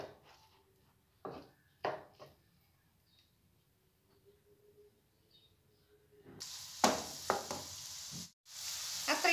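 Ghee melting in a pan on a gas stove begins to sizzle, a broad hissing that rises steadily after quieter scraping and tapping sounds, with a brief break partway through.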